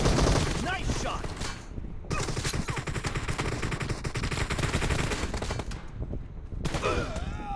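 Sustained, heavy automatic gunfire in a shooter game, with dense overlapping shots for several seconds and brief pauses between bursts.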